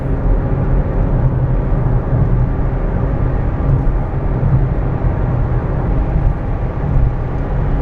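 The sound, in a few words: Toyota Aygo driving on a UK motorway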